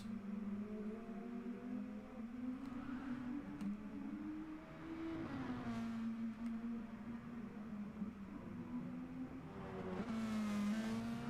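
GR2 racing car engines roar through a racing video game, sustained motor drone with rising and falling revs, moderately loud and continuous with a surge toward the end.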